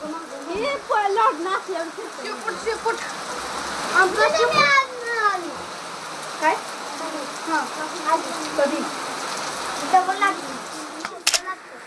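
Steady rain patters down throughout while people talk over it, the hiss of falling water continuous beneath their voices.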